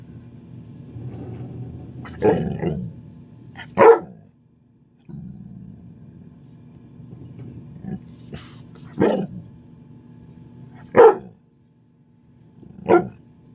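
Dog barking on a commercial fishing boat in Alaskan waters: several sharp barks and growls in irregular bursts, fairly close, over a steady low engine hum with faint talk between.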